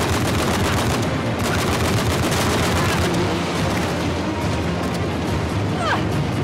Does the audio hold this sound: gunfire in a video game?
yes